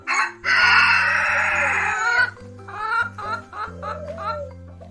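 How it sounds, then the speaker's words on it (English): A hen gives a long drawn-out call followed by a run of short, quick clucks, loud and close over steady background music. "Hen says cluck cluck."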